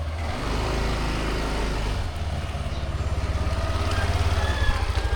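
A motorcycle engine runs close by, holding a steady rumble before shifting into a rhythmic, pulsing throb as the bike is ridden.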